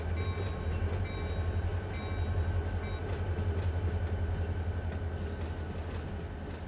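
A freight train in the Run 8 train simulator game rolls through ATSF Malabar yard, a steady low rumble with a constant mechanical hum and faint clicking wheels, continuous and unbroken with no talking.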